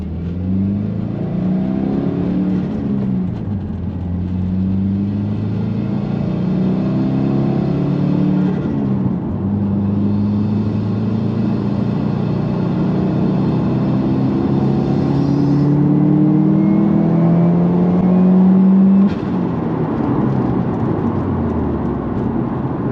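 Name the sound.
car accelerating after GrimmSpeed bypass valve fix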